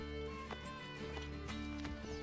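A horse's hooves clip-clop in the video game Assassin's Creed Brotherhood, a few soft, evenly spaced hoof beats under steady background music.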